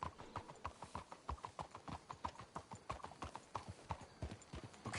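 Horse hooves clip-clopping in Red Dead Redemption 2, a steady rhythmic trot of hoofbeats close by, with faint talk in the background.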